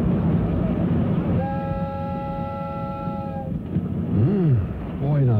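Train passing in a radio drama scene: a steady low rumble of rolling wheels with a sustained multi-tone horn blast in the middle, followed by short rising whistle-like tones near the end.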